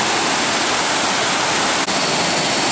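Maeya Waterfall in Thailand, a steady loud roar of falling water heard from the base of the falls, dense and unbroken with no voices.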